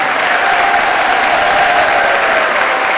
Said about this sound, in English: Keep the applause going again for concert band